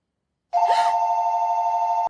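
A telephone in the film Smile (2022) starts ringing abruptly, one sustained electronic trill with a sharp onset, loud and close, then cutting off cleanly after about one and a half seconds, no voices.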